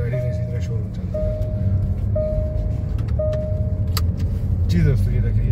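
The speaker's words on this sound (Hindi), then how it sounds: "तो अभी ये गाड़ी की ड्राइव है, मैं आपको दिखाता हूँ जी कि ये कैसे इसकी मूवमेंट है।" 2015 Range Rover Sport HSE driving with a low steady cabin rumble, a repeated electronic chime sounding four times, and someone talking over it.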